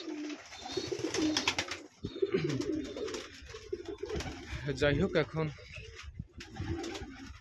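Pigeons coo in a loft while someone talks over them, their low calls continuing through the speech.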